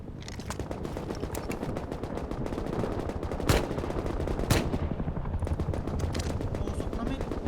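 Rapid automatic gunfire from the video game Rust, dense bursts running continuously with two sharper louder shots standing out, with players talking over the shooting.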